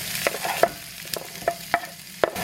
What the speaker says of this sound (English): let's get the onions and garlic sauteed